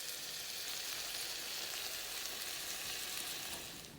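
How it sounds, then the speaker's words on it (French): Chicken strips with peppers and onions frying in a wok make a bright, continuous hiss close up, holding steady before easing off slightly at the end. "on prend les aiguillettes de poulet, on les verse dans le wok"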